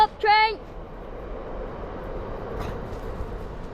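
A train passes on a line near Hawthorn Dene, a steady broad rumble of wheels and carriages that fills the clip after a brief opening shout or whistle-like tone.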